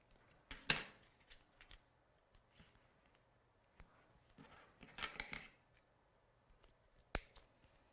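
Scissors trim paper in a few crisp snips spread across a quiet tabletop crafting scene, close and soft with gaps between cuts.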